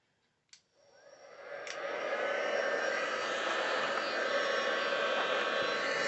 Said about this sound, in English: getting my heat tool on